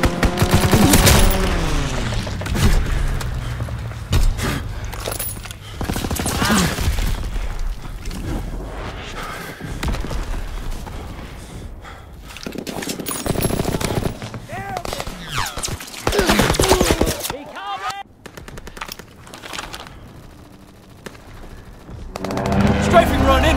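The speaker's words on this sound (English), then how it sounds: "Strafing run inbound." Sustained gunfire from a strafing run in the Call of Duty WWII multiplayer game, loud bursts and booming impacts repeating through the whole stretch, mixed with other battle noise.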